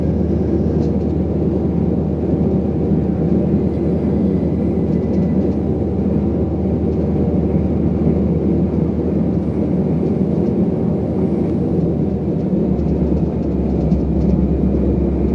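A westbound freight train rolls past in the Run8 train simulator game, a loud, steady rumbling roar of wheels and engines that holds throughout, close and continuous, with no voices.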